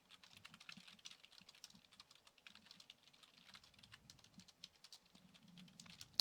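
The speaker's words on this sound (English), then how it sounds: "Okay, I'm going to type that." Quiet, rapid typing on a computer keyboard during an Overwatch match, a close patter of light key clicks in irregular bursts, with faint background murmur.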